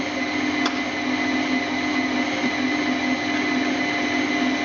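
An electric mixer beats Christmas cake batter with added chocolate in a constant, loud motor whir, holding steady with a single small click near the start and no talking.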